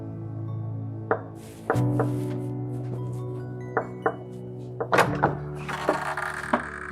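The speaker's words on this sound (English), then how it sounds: "Do you want to break my door?" Heavy fists bang on a house door in several loud, close, irregular thumps with short gaps, some landing in quick pairs, with no talking.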